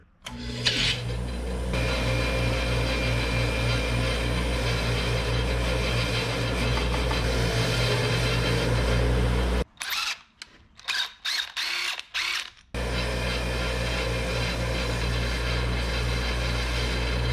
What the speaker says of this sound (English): Gotta get the old wire wheel of death out here because we got some cleanup to do on this hardware.